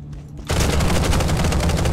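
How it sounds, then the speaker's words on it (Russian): A sudden, dense burst of rapid automatic gunfire from the battle royale game PUBG erupts after a brief quiet moment and continues as loud, evenly spaced shots. "По мне стреляют?"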